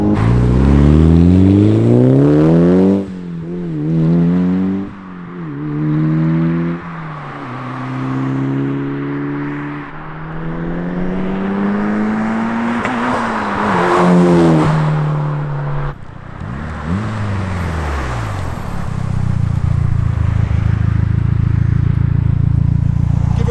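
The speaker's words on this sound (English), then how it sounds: "Give her a little rev, Jake." A car engine from around 2000 revs up and down repeatedly, rising and falling in pitch close by, then settles into a low rumbling idle with no talk over it.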